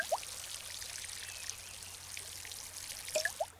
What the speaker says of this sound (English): That's how you water.